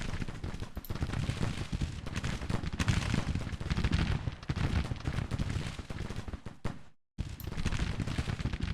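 Dense rifle musket volleys crackle without pause in a Grand Tactician: The Civil War battle, a loud rolling fusillade that cuts out briefly near the end before the firing resumes.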